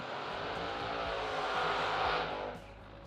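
A top dragster drag racing car roars loudly at the strip, a sustained, dense engine blast that holds steady and then drops off near the end, with no voices.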